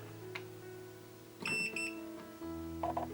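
A self-leveling laser level sounds its alarm: a few short, bright electronic beeps in a cluster, then a fainter pair of beeps later, heard close over a low steady hum.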